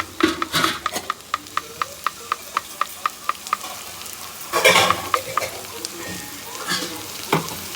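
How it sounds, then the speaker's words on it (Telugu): A spoon stirs masala into korramenu fish curry frying in a pan, with quick regular scraping strokes over a continuous sizzle, then a burst of louder sizzling and slower stirring. "మొత్తం అంత మసాలా దీనికి పట్టేలాగా కలుపుకుందాం"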